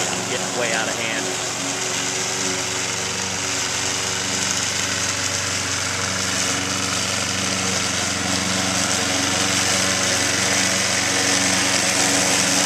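A robotic lawnmower runs steadily throughout, a continuous mid-pitched motor whine with broadband cutting noise, fairly close and unchanging.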